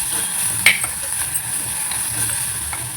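Onions sautéing in a pan for a Tamil-style anchovy fish curry, a steady soft sizzle with occasional utensil clinks and scraping stirs against the pan.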